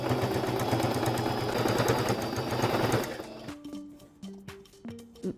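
Sewing machine stitching pillow fabric seams, a fast steady mechanical whir for about three seconds, then stopping, followed by light handling clicks and rustles of fabric.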